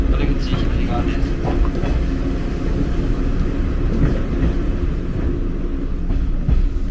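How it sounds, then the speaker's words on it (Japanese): A JR 185 series limited express train rolls into Atami station with a continuous low rumble and faint rail clatter heard from inside the carriage, steady throughout. "列車熱海駅に到着します"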